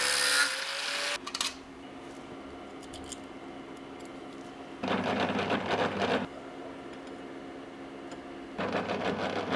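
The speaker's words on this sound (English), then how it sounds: "and then just use the angle grinder." An angle grinder cutting stainless steel car parts, heard as a few fairly faint, harsh bursts of roughly one to two seconds each, with a quieter hum between them.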